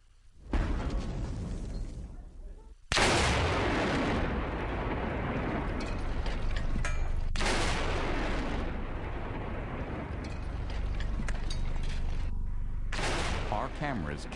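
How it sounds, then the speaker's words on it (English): A large test explosion heard from a bunker arrives as a sudden heavy blast, followed by long rumbling roars and repeated booming surges, with voices present. "The sound of the blast will take 4 seconds to reach the bunker."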